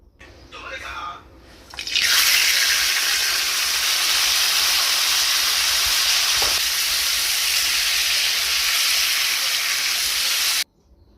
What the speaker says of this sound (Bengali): আমি কিন্তু চিকেনগুলোকে খুব ভালো করে তেলে ভেজে নেব।